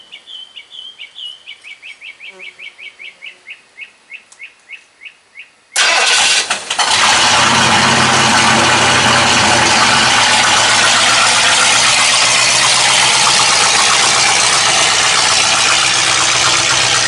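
A Dentside Ford shop truck cranks over in a steady rapid rhythm for several seconds over faint birdsong, then fires up and settles into a loud, continuous idle.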